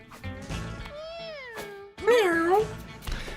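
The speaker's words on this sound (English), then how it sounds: "I love all the meows." Cartoon cat meows from the Mewgenics video game: several drawn-out, pitch-bending mews in quick succession, loud and close, the last one brighter and more insistent.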